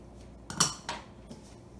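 Egg roll filling seasoned with salt, sugar, five spice, white pepper and sesame oil is mixed with metal utensils, heard as two or three close clinks and scrapes against a bowl in a quiet room.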